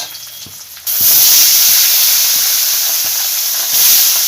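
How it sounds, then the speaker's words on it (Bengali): Katla fish pieces go into hot oil and burst into a loud, continuous sizzle and hiss after a quieter opening second, with faint regular clicks underneath. "এবার বাদ বাকি মাছগুলো এরমভাবেই ভেজে নেব"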